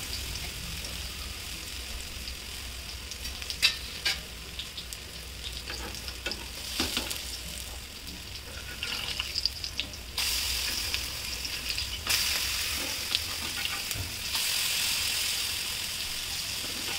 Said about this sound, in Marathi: वडे तेलात भाजून घ्यायचे।